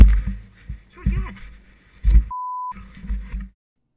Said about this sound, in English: I gotta run the bleeping system on Tom again.